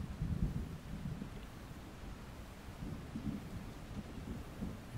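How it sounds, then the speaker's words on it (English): Faint, distant thunder rumbles low and continuously over a rainy Scottish shoreline on Skye, with a slightly stronger roll at the start and no voices. "You wait in anticipation for the following boom of thunder"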